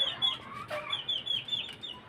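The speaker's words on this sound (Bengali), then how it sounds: "মুরগিগুলো" Chickens cluck nearby in a run of short, repeated calls.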